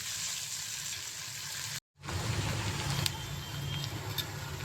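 Prawns fry in hot oil in a pan, giving a steady, even sizzling hiss with a brief break partway through.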